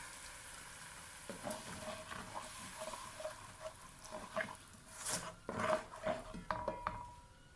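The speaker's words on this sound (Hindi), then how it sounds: "इसमें हम अपना ये टमाटर का पेस्ट ऐड कर देंगे।" Tomato paste for egg korma with potatoes fries in a pan, a faint sizzle rising to louder wet bubbling and spoon scrapes against the metal, close but quiet, with no speech.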